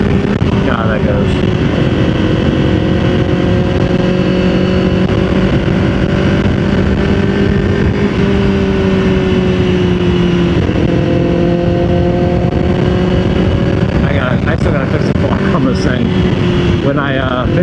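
Honda FireBlade sport motorcycle ridden after a wreck, its engine droning steadily with shifting pitch over strong wind rush, loud and continuous from start to finish, with a brief rev change near the end.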